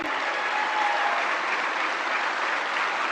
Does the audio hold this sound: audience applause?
yes